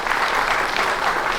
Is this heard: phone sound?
no